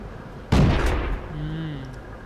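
A tank cannon fires once in World of Tanks, a loud sharp boom with a rumbling tail that fades over the next second while a voice talks briefly afterward.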